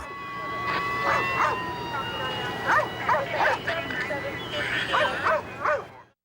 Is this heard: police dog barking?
yes